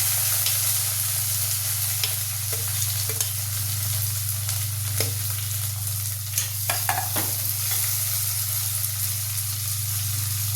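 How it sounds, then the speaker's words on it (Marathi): Onion sautés in a pan until well browned for chilli thecha, a steady loud sizzle running throughout with occasional scraping stir strokes. "चांगला लाल परतून घ्यायचा"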